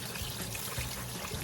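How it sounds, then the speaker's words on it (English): Running water rinses food in a bowl, a soft continuous trickle and splash with small irregular sloshes as the bowl is moved, faint and alone. "I go and just rinse everything, move the bowl around to make sure everything gets rinsed off."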